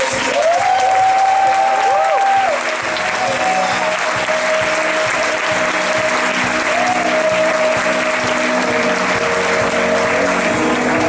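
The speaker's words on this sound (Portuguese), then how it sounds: "Será que nós como igreja podemos aplaudir esse Deus?" A church congregation breaks into sustained applause that fills the room steadily, with tonal music or a sustained voice running on top throughout.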